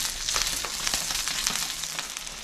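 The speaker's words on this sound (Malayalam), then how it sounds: "ഒന്ന് ഫ്രൈ ആക്കാം." Fish shallow-frying on a banana leaf in a pan, a dense continuous sizzle and crackle heard close, with small pops and stirring scrapes, no voices.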